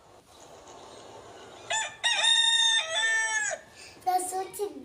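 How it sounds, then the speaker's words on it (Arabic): A rooster crows loudly and close, a drawn-out cock-a-doodle-doo in rising and falling phrases, followed by a short burst of clucking. "ده صوت الديك."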